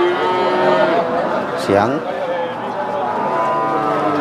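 Cattle moo loudly and nearby at a busy cattle market, with one long drawn-out call in the middle over a steady murmur of crowd and voices, and people talking throughout.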